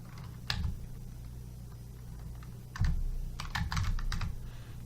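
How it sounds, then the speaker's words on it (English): Keys clack on a computer keyboard in short bursts of typing, a few isolated taps followed by a quicker flurry of keystrokes, close and clear over a low steady hum. "type in your bicycle at the bottom of it"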